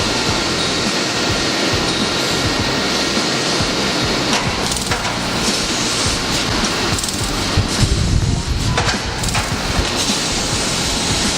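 A laser cutting machine runs in a factory workshop, producing a loud, constant mechanical hum and whir with scattered clicks and knocks throughout, and no voices.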